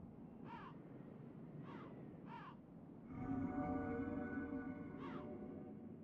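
Several crows caw in a video game, Demon's Souls: three separate harsh calls early on, then a louder, sustained overlapping chorus of caws from about the three-second mark, with one more distinct caw near the end, all over a steady ambient background.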